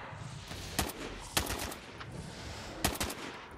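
Short bursts of RPK light machine gun fire in a Call of Duty zombies match, three or four sharp volleys of rapid shots spaced over a few seconds against a low background rumble.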